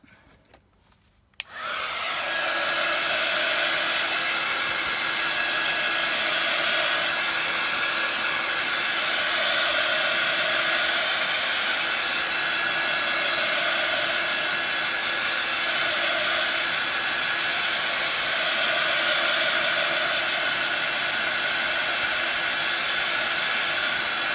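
A hair dryer blasts steadily over a mixed media heart artwork, switching on abruptly after a quiet moment and then roaring loud and close with a constant whine for over twenty seconds.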